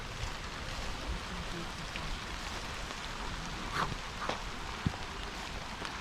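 A rain shower during a July thunderstorm on a mountain makes a steady, dense patter of raindrops. It stays fairly quiet and even, with a few sharper drips and knocks near the end.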